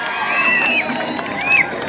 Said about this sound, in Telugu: ఒకసారి గట్టిగా వారందరికీ కూడా గట్టిగా మనందరూ కూడా క్లాప్స్ అభినందన తెలియజేయాలని కోరుతా